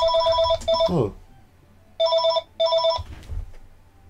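A telephone rings with a repeated electronic double-trill, three bursts separated by pauses, fairly loud and close, with a brief spoken exclamation between the rings in a quiet room during a chess commentary.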